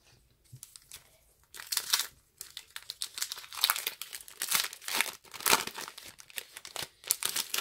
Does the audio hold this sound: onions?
no